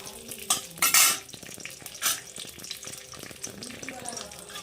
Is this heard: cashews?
yes